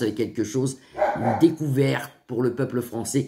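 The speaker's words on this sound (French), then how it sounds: "C'est mon chien qui aboie, mais ça, je peux rien faire, il est dehors." A dog barks outdoors, short yips mixed under a man's continuous speech, set back from the microphone.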